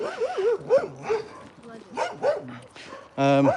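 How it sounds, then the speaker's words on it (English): Small dog barking and yipping a few times close by, with a final sharper bark, in between and under steady conversational speech from a man. "Shush, doggy."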